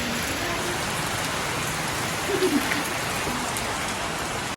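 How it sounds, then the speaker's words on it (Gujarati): A drizzling rain falls in the hills of the Gir region, a steady, close, even hiss of drops that continues without a break. "વાદળું વરસી રહ્યું છે એકદમ ઝરમર ઝરમર ઝરમર"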